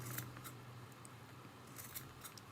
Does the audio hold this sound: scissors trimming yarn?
yes